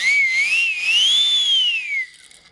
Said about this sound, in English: That's nice too, the jet noise,